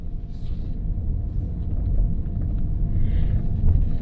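A 2025 Toyota Camry hybrid pulls off at the start of a drive, giving a low, steady rumble of road and cabin noise that swells slightly over a few seconds, with no clear engine note.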